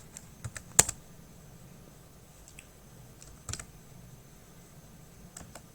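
Keystrokes on a computer keyboard while text is entered into an MS Excel spreadsheet: a few sparse, quiet clicks spaced out over several seconds, with one sharper tap standing out early.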